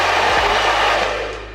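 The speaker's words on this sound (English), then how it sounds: "This is just the plain hair dryer" A plain hair dryer without an attachment blows steadily and loudly up close, a dense airy roar with a motor hum underneath, fading slightly at the end.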